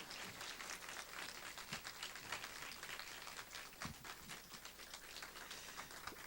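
Church seminar audience clapping in a round of applause for a guest, a faint, continuous patter of many hands heard from a distance, with no talk over it.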